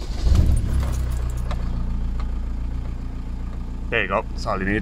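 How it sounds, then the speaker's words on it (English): A VW T3 with a swapped TDI diesel engine cranks with a rough burst, then settles into a steady, close idle; someone speaks briefly near the end. "we'll try and crank it over again, and we'll actually let it start, but we're not going to rev it"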